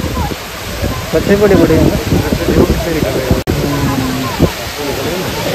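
A stream runs fast beside a hill pool that holds turtles and fish, its steady broadband rush filling the background while people talk over it nearly throughout.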